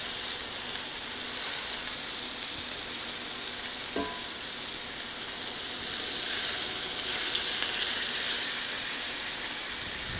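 Filet mignon sizzles steadily in a hot pan as it is flipped, giving a constant loud frying hiss with one brief clatter partway through.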